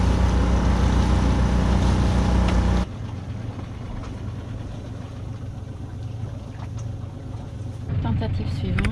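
A boat engine running at 3000 rpm on a cruise from Mar Menor to Cartagena gives a steady, loud drone that drops to a quieter hum partway through, then swells again near the end.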